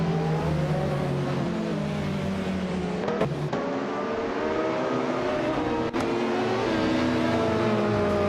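LMP2 race cars at the start of a race on the Nashville Superspeedway infield, a 2017 LMP2 car among them, their engines droning and revving together in a sustained roar with shifting pitch.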